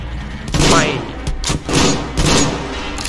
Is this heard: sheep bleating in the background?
no